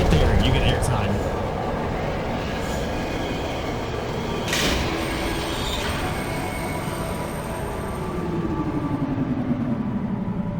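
A tram ride in the video game Riven, a rumbling rail vehicle rolling along with a steady low roar, a sharp metallic clank midway and a rising squeal of wheels toward the end, with someone talking over it.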